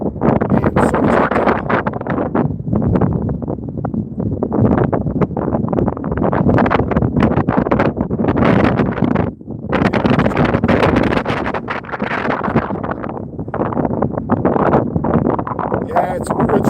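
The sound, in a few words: strong wind blowing on the microphone while ice fishing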